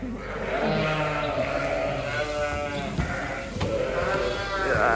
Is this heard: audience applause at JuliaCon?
no